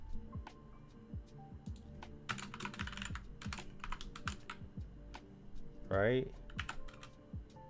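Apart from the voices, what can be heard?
typing code on a computer keyboard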